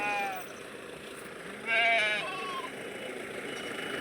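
Goats being loaded onto a vehicle give a couple of nearby bleats, one at the very start and a louder one a couple of seconds later, over quiet outdoor background.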